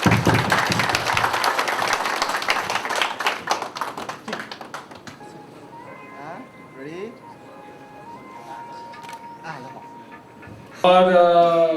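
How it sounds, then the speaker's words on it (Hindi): Applause from a room full of people at a Dashain celebration event: a loud burst of many hands clapping that thins out and fades to scattered claps, followed by quiet room tone with faint voices and a brief tonal sound at the end. "एक जोरदार ताली सबके लिए"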